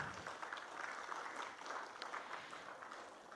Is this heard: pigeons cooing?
no